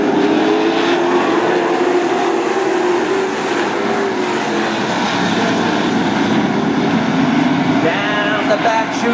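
Race cars racing together on a motorsport track, a continuous loud roar of engines sustained throughout, with a voice talking over it.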